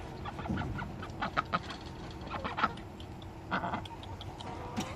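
Repeated clucking, chicken-like calls from a duck over steady outdoor background noise, in irregular short bursts.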